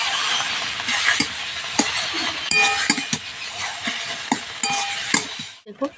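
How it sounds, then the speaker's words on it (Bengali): Cabbage and tomato are stirred in a frying pan, with a spatula scraping and clinking against the pan in irregular strokes over a soft sizzle, close by. "কপিটা নাড়তে নাড়তে অনেকটা শুকনো হয়ে এসছে"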